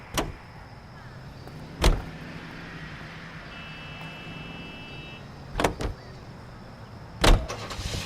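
Car driving in the video game L.A. Noire: a steady low engine and road rumble runs throughout, broken by four sharp loud clunks, probably door or window mechanisms, and a brief faint whine in the middle.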